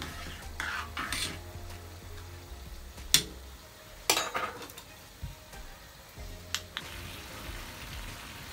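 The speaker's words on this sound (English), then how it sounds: "So we give it a stir." Lamb neck stew stirred in a pot with a utensil, giving soft scraping strokes and a few sharp clinks of metal against the pot, all alone with no talk.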